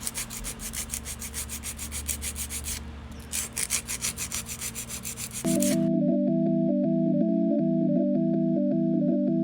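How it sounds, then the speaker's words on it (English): A 100 grit hand file scrapes rhythmically back and forth across gel nail tips in quick, close strokes, then stops, and a steady electric whirring tone takes over. "I'm just going to file these nice and straight, as well as taper in the sides a little bit"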